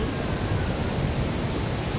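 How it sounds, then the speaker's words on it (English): Strong ocean waves breaking on the coast by a beach resort at Baler, a dense, steady roar of surf that stays loud and continuous throughout with no pauses. "the waves here are quite stronger"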